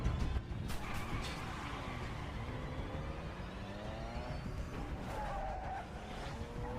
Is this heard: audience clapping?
no